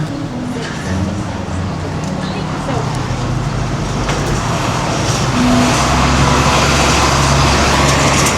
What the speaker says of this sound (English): There's Cool River tubing bus.